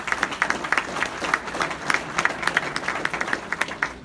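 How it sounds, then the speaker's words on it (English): Applause at a city magazine's best-of awards event: a moderate crowd claps in thinning, uneven bursts, individual hand claps distinct in the room, no voices over it. "Let's give them a round of applause and thank them."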